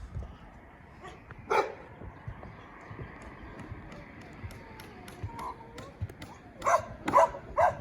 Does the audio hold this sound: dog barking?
yes